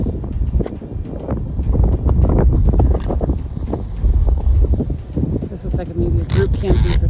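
Breezy wind blows outdoors at a campground, buffeting loudly and steadily against the microphone while people talk.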